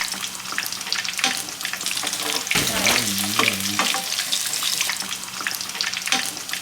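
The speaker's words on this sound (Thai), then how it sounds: "ก็ค่อยๆทอดแล้วก็พลิกด้านไปเรื่อยๆนะคะ" Pork tonkatsu cutlet frying in oil as it gets turned, a steady crackling sizzle throughout with a brief splashing, bubbling burst midway as the cutlet is flipped.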